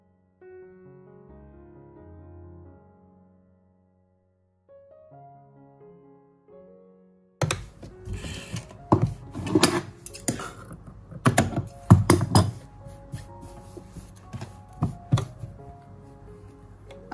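A sewing machine stitches lace straight onto fabric for a sleeve, starting after a quieter musical stretch and running in dense, rapid mechanical clatter with short bursts and pauses.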